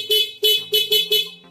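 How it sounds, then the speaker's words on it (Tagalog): A car's stock horn sounds five short, loud, close honks in quick succession, heard alone during a horn installation with a relay and switch. "stock horn."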